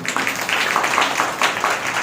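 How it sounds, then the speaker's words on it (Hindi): An audience at a Rajyoga spiritual class claps together in a steady, dense patter that runs unbroken through the moment. "ताली तो बजा"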